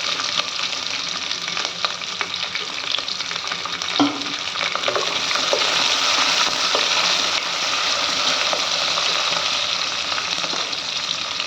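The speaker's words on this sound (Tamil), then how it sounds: "போட்டு கொஞ்சம் ஃப்ரை பண்ணிக்கோங்க" Onions sizzle steadily in a hot pan, with occasional scraping and stirring clatter throughout, continuous and fairly loud.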